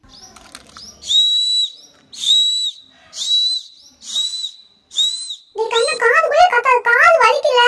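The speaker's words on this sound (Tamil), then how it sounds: "விசில் இருக்குது இருங்க நான் ஊதி பார்க்குறேன்" A toy whistle is blown five times in short, shrill, evenly spaced bursts, followed by a warbling trill; a voice speaks briefly at the start.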